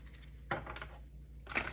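Tarot cards being shuffled by hand, two quick papery riffling bursts separated by a short pause, close and fairly soft with no talking.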